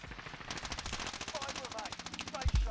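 Rapid automatic gunfire in the Call of Duty Warzone video game, a steady stream of evenly spaced shots for nearly three seconds ending in a heavier thump, fairly faint.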